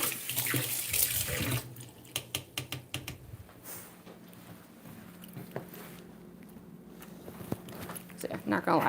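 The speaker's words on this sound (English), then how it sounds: "Let me rinse this off." A kitchen tap runs as something is rinsed off beneath it, a steady splashing rush at the start, followed by clicks, clatter and a person speaking.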